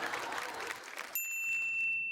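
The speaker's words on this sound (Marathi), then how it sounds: "जोरदार टाळ्या होऊन जाऊ द्या छान छान" Studio audience on a Marathi TV show bursts into loud applause for about a second, then it cuts off abruptly to near silence with a thin high tone.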